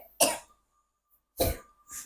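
Two or three separate close coughs, dry and forceful, with quiet pauses between them, from a person in a village kitchen where fish is being prepared.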